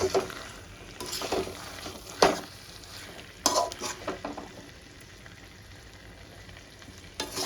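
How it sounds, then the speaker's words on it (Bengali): Butter chicken masala is stirred in a pan, with a low sizzle under scattered scraping strokes and clinks of a spoon, close and quiet, with a few louder scrapes. "এবার ভালো করে মিক্স করে নেব মাংসটা আমার দেখো কি সুন্দরভাবে কষে গেছে"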